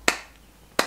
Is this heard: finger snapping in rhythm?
yes